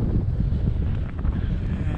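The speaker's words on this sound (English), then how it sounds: "It is very windy." Strong wind buffets the microphone in a steady, loud roar with gusty low rumble throughout, on a hiking trail.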